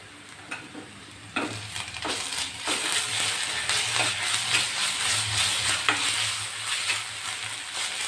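Ginger garlic paste fries and is stirred in a pan while chicken tikka masala is being cooked, giving a steady sizzle with repeated scraping stir strokes that grows louder after the first second and continues throughout.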